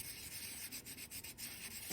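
Fine micro mesh abrasive sanding a polymer clay ring makes soft, steady, close rubbing strokes, faint and with no talking.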